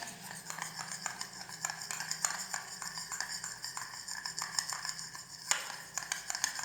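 Spoon stirring homemade face cleanser ingredients in a small bowl, a run of light, rapid clinks and scrapes repeating steadily up close, with no talking.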